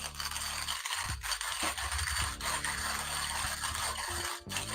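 Coffee beans being hand-ground in a Timemore grinder, a continuous gritty rasping and crunching with brief pauses, close and alone.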